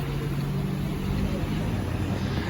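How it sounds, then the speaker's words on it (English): Steady broadband rumble of city street traffic, cars passing continuously at moderate distance outside a bike shop, a dense wash of road and engine noise with no clear individual pass-bys. "you can probably hear a lot of cars and people walking"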